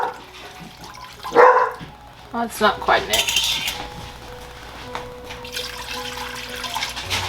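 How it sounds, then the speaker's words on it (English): Water pours into a pressure cooker with clattering of metal and dishes, dogs barking in the background, and someone speaking briefly. "I'm gonna put my inch of water in the bottom."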